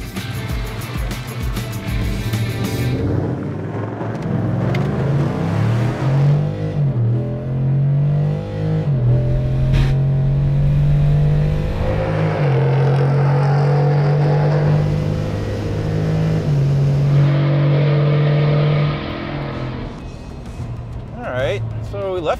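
Ford F-150 pickup truck launching down a drag strip, its engine droning loud and steady with a rising harmonic tone that climbs and holds for about twenty seconds, with voices talking over the run.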